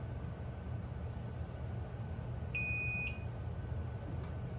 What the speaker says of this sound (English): How many of us heard this annoying beep coming from our garage but didn't understand what was going on?